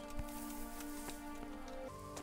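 Rain falls steadily in the video game Kingdom Come: Deliverance, a soft patter of drops under sustained tonal game music.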